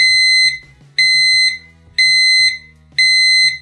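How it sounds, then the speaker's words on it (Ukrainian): An electronic alarm clock on a home weather station beeps in loud, shrill pulses, each held about half a second and repeating once per second, with faint low rumble beneath. "Ось такий звук має будильник."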